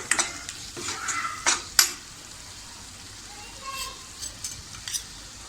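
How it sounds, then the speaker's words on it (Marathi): Homemade spice masala sautéing in a pan for chicken lapeta: a spatula clinks and scrapes sharply several times early on, then settles into quieter intermittent stirring over a soft sizzle. "तो व्यवस्थित परतून घेऊया।"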